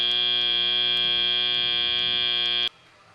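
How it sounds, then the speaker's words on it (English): An end-of-match buzzer at a robotics competition blares as one long, steady, loud electronic tone that cuts off abruptly, leaving faint arena background. "That buzzer means that we will close out match number 32."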